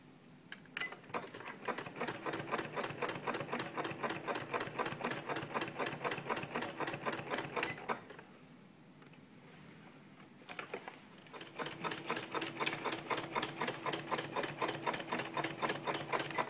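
A sewing machine stitches along a blanket edge in fast, evenly rhythmic needle strokes, running for several seconds, pausing briefly, then resuming at the same steady pace, fairly close and moderately quiet.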